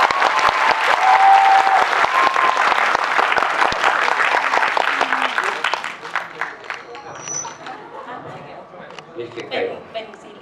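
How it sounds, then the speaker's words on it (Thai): Audience applause at an interview session with actors and crew, loud sustained clapping that gradually thins out and fades toward the end. "ขอเสียงปรบมือด้วยครับ"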